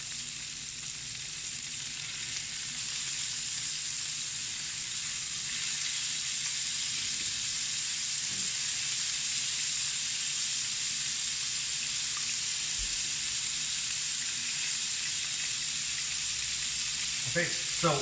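Beef burgers with butter sizzling in a frying pan just after flipping, a steady, close crackling hiss that holds at an even level throughout, with a few faint clinks near the end.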